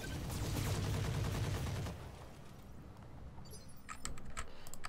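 Weapons fire in the Roguetech BattleTech mod video game: a dense, crackling burst of rapid shots, then quieter rattling and a few sharp distant pops, with no talk.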